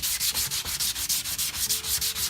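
A sander rubs back and forth along the edge of edge-banded plywood, a steady rhythmic scratchy hiss repeating about five times per second, close and loud with no talk.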